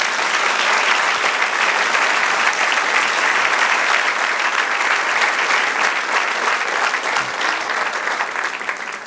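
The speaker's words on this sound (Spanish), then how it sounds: "Dale un aplauso al Señor." A church congregation applauds during a Spanish-language sermon, a dense, sustained wash of many hands clapping, loud and steady before tapering slightly at the end.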